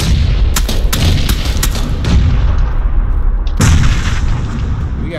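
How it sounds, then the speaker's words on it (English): Grenade blasts and gunfire in the battle royale game PUBG, a dense rumbling barrage with several sharp cracks early on and a heavy boom near the end, loud and continuous. "Let's throw some grenades up here."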